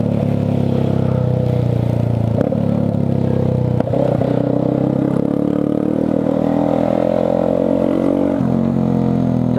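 Heavy São Paulo traffic of cars and motorcycles in the rain: a loud, steady rumble of engines with droning motor tones and a few brief clattering thumps, and no voices.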